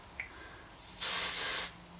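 Oribe Dry Texturising Spray released from an aerosol can onto hair in one steady, close hiss lasting under a second, after a faint click; no talking.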